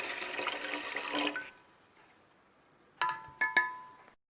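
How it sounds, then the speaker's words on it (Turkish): Liquid from jars of homemade peach compote poured into a cooking pot, a steady splashing pour for about a second and a half, then a few short trickles and splashes. "şimdi hemen kompostların suyunu boşaldıram qazana."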